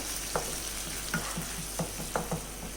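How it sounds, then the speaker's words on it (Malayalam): A spoon scrapes and stirs butter paneer masala in a pan after hot water is added, with a handful of sharp clinks against the pan over a low, steady simmering sizzle, with no talk. "ഇതിലേക്ക് ഇനി നമുക്ക് കുറച്ച് ചൂടുവെള്ളം ഒഴിച്ചു കൊടുക്കാം, ഈ അരപ്പൊന്ന് വേകാനും വേണ്ടിയിട്ട്. നല്ലോണം ഇളക്കി മിക്സ് ചെയ്തിട്ട്"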